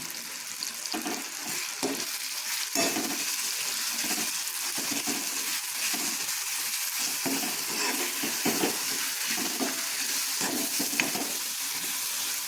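Spice paste for amate kayi palya fries in hot oil with a loud, continuous close-up sizzle and crackle, broken by bursts of stirring, and no voices.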